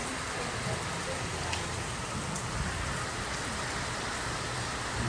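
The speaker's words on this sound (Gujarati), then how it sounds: "ફૂલ વરસાદ" Heavy night rain pours down on a village in a dense, unbroken roar that stays loud and even throughout.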